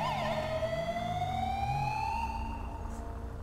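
An ambulance siren from GTA 5, a SAMUR BMW in a rescue mod, wails in a steady rising and falling sweep, loud and close with an engine rumbling underneath, fading slightly toward the end.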